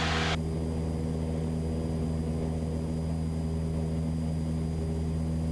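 A Cessna light aircraft engine drones steadily in flight during a training circuit, a loud, unbroken propeller hum that fills the cabin after a brief burst at the start.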